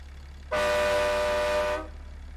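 A loud, steady truck air horn blasts once for over a second, rich and brassy, then cuts off against a low background hum. A train horn on a RAM 3500 pickup in American Truck Simulator.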